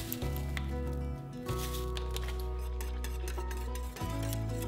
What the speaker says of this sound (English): It's important to keep stirring it so that the milk doesn't burn